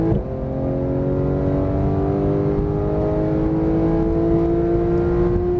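Porsche GT3 engine accelerating on a race track in Las Vegas, a loud, steady rising drone heard from inside the car with no talking.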